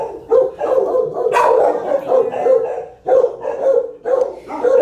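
A lab mix dog barks loudly and close in several repeated bursts, with yips and short whimpering sounds between barks, in an animal shelter room.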